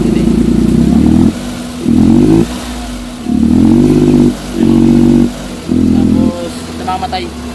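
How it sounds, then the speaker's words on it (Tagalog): A Suzuki Big Eye DA64 engine idling roughly and vibrating in uneven surges with the AC on, the sound swelling and dropping about five times with brief lulls between, close by. "nagbabibrate yung makina. Walang magandang idle."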